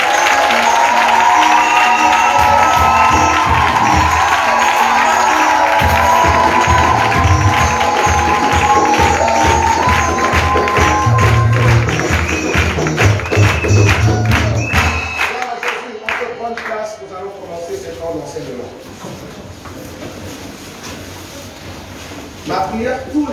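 A church congregation cheers, claps and calls out in acclaim, loud and dense over a continuous crowd roar with rhythmic tapping, fading somewhat toward the end while a voice carries through.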